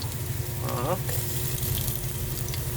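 Chopped onions hit a hot oiled pan for an igado and menudo dish, giving a steady, close sizzle throughout with a brief stirring scrape near the start.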